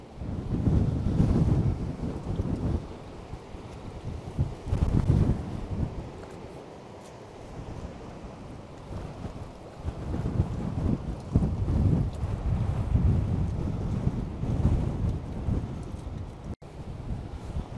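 Storm wind gusting hard across Skaterow Harbour with boats moored nearby, loud buffeting rumble on the microphone rising and falling in waves over the whole stretch, with surf and water washing underneath and no one talking.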